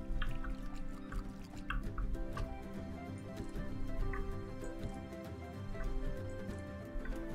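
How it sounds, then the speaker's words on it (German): Plants are watered in Summer in Mara, giving soft repeated drips and liquid splashes over a tonal game music bed, with no voices. "Müssen die Pflanzen gießen."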